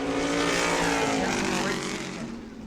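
A race car out on New Smyrna Speedway during World Series qualifying, its engine a loud sustained roar that fades slightly as it moves away, with a commentator talking over it.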